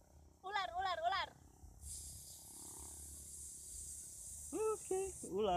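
A man imitating animal sounds on stage produces a long, steady breathy hiss like a snake, set between bursts of wavering vocal sounds before and after.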